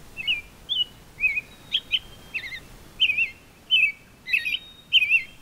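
An American robin near Niagara Falls gives a quick series of clear chirps and short warbled phrases, fairly close, with quiet pauses between the notes and no voices.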